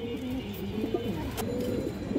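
High-quality show pigeons at a market, several soft throaty coos repeating close by over a low background murmur, no clear speech.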